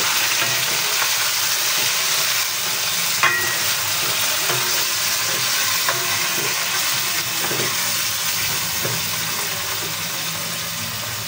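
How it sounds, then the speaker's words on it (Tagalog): Marinated chicken fries in a pan with a loud, steady, close sizzle and crackle that continues throughout, with occasional faint clicks and no speech. "Ilalagay na po natin yung ating marinade na chicken."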